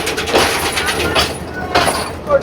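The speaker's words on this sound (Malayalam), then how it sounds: "ചെറിയ ട്രെയിനാണ്, നമ്മുടെ നാട്ടിലെ പോലെ അത്ര വലിയ ട്രെയിനല്ല." A small Sri Lankan passenger train climbing through hill country rumbles steadily, with a continuous loud roar and faint rhythmic rattling of the carriages. Voices may murmur underneath.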